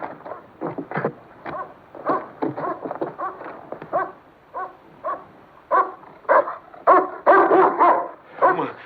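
A dog barks repeatedly in uneven bursts, some single and some in quick clusters, close and fairly loud with no talk over it.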